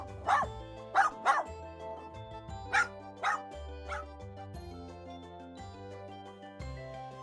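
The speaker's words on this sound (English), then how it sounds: "It was a wolf puppy," A wolf puppy gives several short, bright yipping barks in quick pairs and singles, close and clear over a soft, steady background of stepped music.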